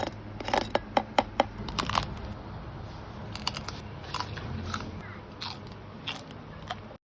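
Crispy lechon pork belly is bitten close up, giving a run of sharp, crackling crunches in quick bursts with quieter chewing between them and no talking.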